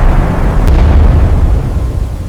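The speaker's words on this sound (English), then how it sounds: "distant explosions echoed across the ruined city" A heavy, low booming roar rolls on throughout, like artillery explosions in the distance across a ruined city, with one sharp crack partway through.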